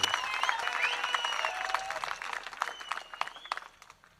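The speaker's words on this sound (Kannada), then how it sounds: "ಅಕ್ಕನಿಗೆ ಒಂದು ಜೋರಾಗಿ ಚಪ್ಪಾಳೆ ತಟ್ಟಿ ಧನ್ಯವಾದಗಳನ್ನು" An audience claps loudly for a woman. A lively burst of applause mixes with crowd voices and grows into sharper, separate claps toward the end.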